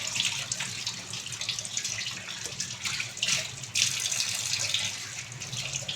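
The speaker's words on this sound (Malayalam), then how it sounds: "ഇത് നമ്മുടെ ടാപ്പാണ് കേട്ടോ." A kitchen tap runs steadily, a continuous broadband hiss of flowing water with slight fluctuations and a low background hum, no speech over it.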